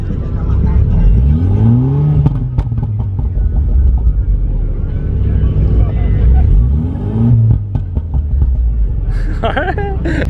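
BMW F30 with a stage 2 burble map revving up close: rising and falling engine pulls with crackling burbles between them, while people talk nearby.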